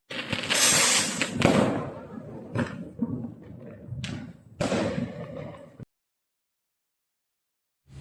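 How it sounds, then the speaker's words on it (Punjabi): Two fireworks taped together at their centres go off in a burst of loud crackling bangs and sharp pops over several seconds, then stop abruptly, followed by a lone thud at the end. "ਇੱਥੇ ਦੋ ਅਸਤਵਾਜੀਆਂ ਨੂੰ ਇਹਨਾਂ ਨੇ ਸੈਂਟਰ 'ਚੋਂ ਟੇਪ ਕੀਤਾ ਤੇ ਫਿਰ ਚਲਾਈਆਂ"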